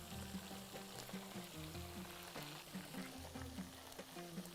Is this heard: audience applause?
no